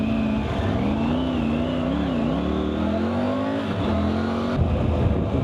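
A Triumph Tiger 900 GT motorcycle pulls away, its engine note rising and wavering through gear changes, loud and close for several seconds.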